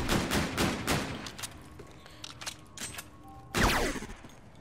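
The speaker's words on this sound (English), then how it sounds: "I'm gonna waste all of our bullets." Gunfire in the Call of Duty video game: loud, rapid rattling bursts of automatic fire, a pause with scattered shots, then another heavy volley close up.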